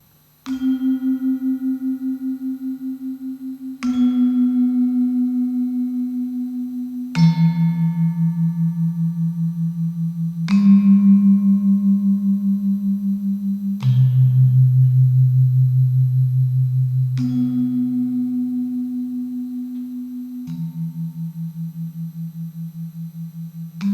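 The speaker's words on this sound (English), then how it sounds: "So the gong sounds like this." Deep gamelan gong strikes, about seven of them, every three to four seconds, each ringing with a long humming sustain at slightly different pitches.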